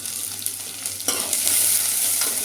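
Onions frying in hot oil in a pan, a bright steady sizzle with sharp scraping stirs partway through, close and alone without any voices.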